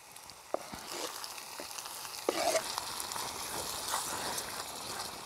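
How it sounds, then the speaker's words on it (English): Onions sautéing in a pan give a steady close sizzle and crackle, broken by a few clicks and scrapes as a stick stirs them, with no voices. "the onions are nice and sauteed perfectly now"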